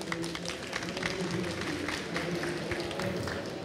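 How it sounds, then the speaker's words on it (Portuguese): At a startup pitch competition, an audience gives a brief round of scattered clapping. The applause is moderately loud and sounds a little distant, with murmuring voices underneath. "Uma salva de palmas, gente."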